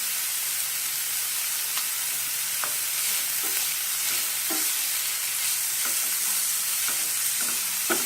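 Fenugreek sabzi with garlic fries in a pan, giving a steady close sizzle with repeated soft scraping and clinking as it is stirred, no talk.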